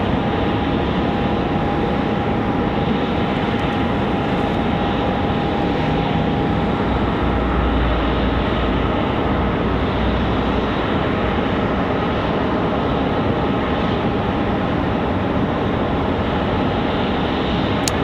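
An airplane departs from the runway at Raleigh-Durham International Airport, its engines giving a loud, continuous, broadband roar that holds steady throughout without fading.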